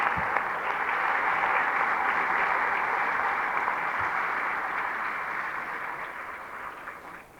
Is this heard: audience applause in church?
yes